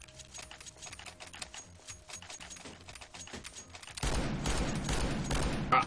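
Rapid R8 revolver shots in CS:GO crack out in a quick irregular volley, then give way to a dense, loud burst of overlapping game gunfire near the end.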